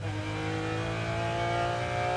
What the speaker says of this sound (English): I'm taking it in 3rd gear, accelerate out, up into 4th